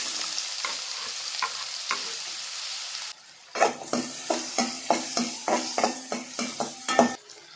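Hot oil sizzles loudly, then a burst as finely chopped onion hits the pan, followed by a rhythmic series of stirring scrapes over continuous frying.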